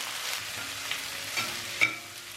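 Beans, onion and coconut pieces with turmeric stir-fried in a pan make a soft, steady sizzle, punctuated by a couple of light scrapes and clicks from the stirring.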